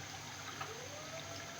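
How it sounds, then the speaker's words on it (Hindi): A glass of water is poured into a cooking pot of potato and arbi curry, giving a steady low trickling gush that runs unbroken and fairly soft. "ये देखिए ये इस तरह का 1 गिलास पानी शामिल करूँगी।"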